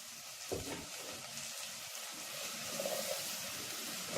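Onion, garlic, carrots and potatoes fry in a pot for lentil soup, giving a soft, continuous sizzle with a few faint stirring knocks. It is fairly quiet and close, with no talking.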